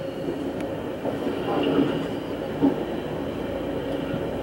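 A Vitória-Minas passenger train runs on its rails, heard from on board as a steady loud rumble with a single sharper clunk late in the run.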